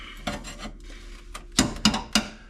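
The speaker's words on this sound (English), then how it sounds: "just come through here with the sanding wheel" A sanding wheel grinds over the rusted metal floor pan of a 1969 Dodge Charger, giving several short, close rasping bursts, the last three sharper and louder, with quieter scraping between them.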